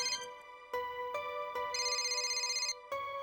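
An electronic phone ringtone plays a bright, repeating melodic pattern in steady bursts, clear and close with no talking.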